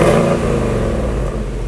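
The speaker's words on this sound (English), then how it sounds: "I do want to show you what the stock exhaust sounds like" A stock-exhaust Ford Mustang engine runs and revs close by, a deep rumbling burble that swells at first and then settles into a steadier throbbing idle, heard alone.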